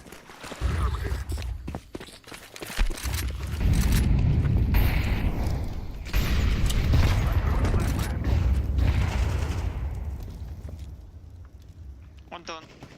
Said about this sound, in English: Throwing smoke. Throwing the flashbang.